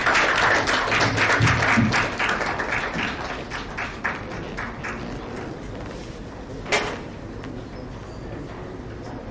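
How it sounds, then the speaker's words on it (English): Applause from a conference audience at a summit felicitation ceremony, dense clapping that starts loud and gradually thins and fades over several seconds, with a few stray claps near the end. "A huge round of applause for Dr. Dhyaneshwar Moole."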